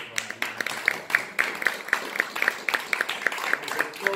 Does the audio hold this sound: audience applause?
yes